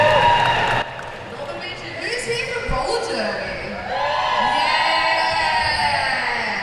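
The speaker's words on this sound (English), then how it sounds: "Massive shout out from the venue crowd here for and in love with roller derby." A venue crowd at a roller derby game between Inner West and Northern Beaches cheers and whoops, with a loud burst of voices that settles briefly and then swells again into sustained cheering.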